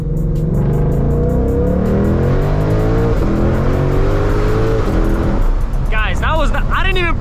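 Shelby GT500 V8 revving hard and climbing through the gears with a loud, raspy roar that builds steadily, heard from inside the car, with a short excited voice near the end.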